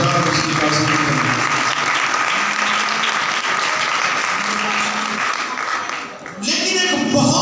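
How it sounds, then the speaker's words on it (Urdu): A church congregation applauding loudly, with sustained dense clapping throughout and voices mixed in, as during a worship service. "آئیے خدا باپ کے لیے زوردار تالیاں بجا کر اس کی تعظیم کریں۔"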